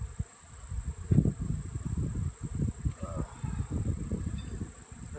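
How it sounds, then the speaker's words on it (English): A dense swarm of honey bees buzzes loudly inside stacked brood boxes, a close, continuous drone with fluctuating intensity and no voices. "So now, a lot more bees up in here than last time."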